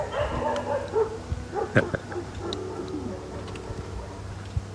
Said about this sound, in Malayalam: ഇവിടെ ഒന്നും ആരുമില്ല ഡോഗ് ഡോഗ്സ് മാത്രമേ ഉള്ളൂ